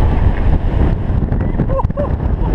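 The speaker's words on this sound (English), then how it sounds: "A bit windy." Strong wind buffets the microphone with a low, roaring rush at an amusement park ride, steady and loud throughout, with a couple of faint chirps near the end.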